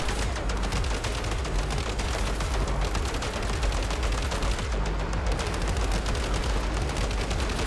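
Auto turrets in Crimson Desert fire in a dense, continuous barrage of rapid gunshots that stays loud and close for the whole stretch, with no pause.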